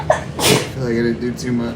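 A single sharp sneeze bursts out loud and close near the start, followed at once by a person talking.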